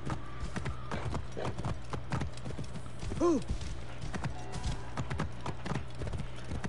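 Horse hooves clip-clop in the Assassin's Creed Origins video game, a steady run of hoof steps with a brief whinny partway through, set among busy game sounds and music.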